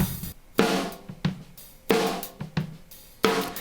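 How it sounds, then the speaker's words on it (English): A duplicated snare drum room track gives roomy, reverberant snare hits in a steady rhythm, each crack trailing into a short wash of ambience, with no talking. "But what we got going on here is a duplicate of the rooms"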